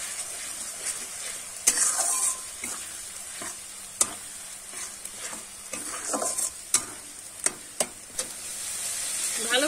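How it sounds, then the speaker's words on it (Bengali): Onion paste fries with ginger-garlic paste in a pan, a faint continuous sizzle under sharp, intermittent scrapes and taps of a spatula stirring, with no one speaking. "এবারে দিয়ে কিন্তু দেব 2 চামচ কিন্তু পেঁয়াজ বাটা, সেটাও কিন্তু আমি একটু কষিয়ে নেব।"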